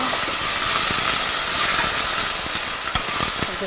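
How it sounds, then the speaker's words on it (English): Onions browning in hot oil on a stovetop for butter chicken give off a steady, close sizzling hiss with faint crackles and a few soft pops throughout. "So onions are browning"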